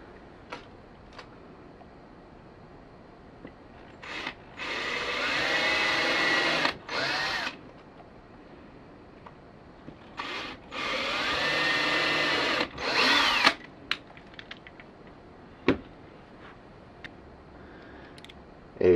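A power drill with a Phillips screw bit whirs in two sustained bursts, each a few seconds long, separated by pauses with light tapping and clicks, close by with no speech, while installing zebra blinds.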